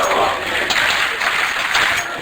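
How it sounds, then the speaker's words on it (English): A large arena crowd at a CS:GO esports tournament semifinal roars and cheers in a steady, loud wash of noise that fills the space, with commentators' voices faintly underneath. "Well, the crowd, they're feeling it."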